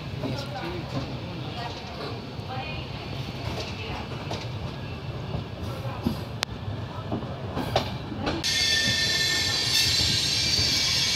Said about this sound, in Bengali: ট্রেন ছেড়ে দিল বারাণসী জাংশন।